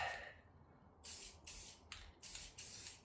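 Short hissing bursts from a spray can coat aftermarket wheels of a 2020 Subaru WRX, four quick sprays in an uneven rhythm after an initial fading hiss, close and fairly quiet.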